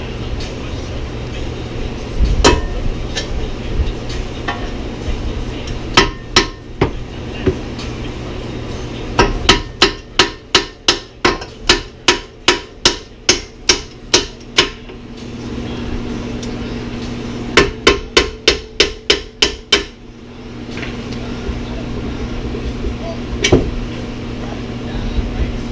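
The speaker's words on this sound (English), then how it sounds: "Grab the trusty hammer. You're going to pop these two bolts out." Sharp metallic hammer blows drive two bolts out of a Kia's suspension during an air ride install, landing in quick rhythmic bursts of strikes, loud and close, with workshop ambience between the runs.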